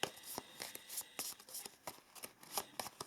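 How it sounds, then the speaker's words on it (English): Round Lenormand and oracle cards are shuffled by hand in quick, soft, papery bursts, a close and fairly quiet riffling that repeats in an uneven rhythm with no one talking. "round cards, so they're a little bit difficult to shuffle"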